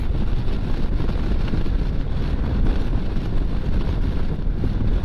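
Steady, loud wind roar buffets the microphone while riding an Indian Sport Chief motorcycle at speed, reaching about 70 mph after pulling away in second gear, with no talking.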